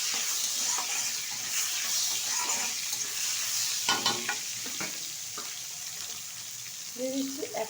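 Black cumin seeds and chopped tomato dropped into hot oil left from frying fish give a steady, close sizzle with stirring and spoon scrapes throughout.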